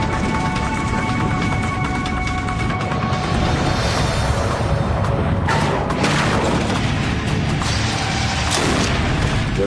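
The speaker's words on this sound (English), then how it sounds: "The nose hit with quite a bang on the runway." Boeing 767 nose gear slamming onto the runway during an unpowered emergency landing, a loud crashing bang amid continuous dense rumble and rattling, with sharp impacts around the middle of the clip.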